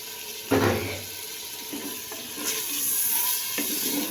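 Desi chicken and potato curry is stirred and fried in a pot, with a sudden loud sizzle as ingredients go in, followed by scraping stirs and a steady bubbling hiss.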